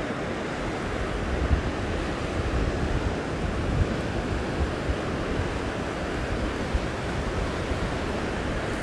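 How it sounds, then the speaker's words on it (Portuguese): Ocean waves wash continuously onto a secluded beach at Calheitas in Pernambuco, Brazil, a broad steady roar of surf mixed with wind buffeting the microphone. "E é uma praia bem escondida, a praia de Calheitas."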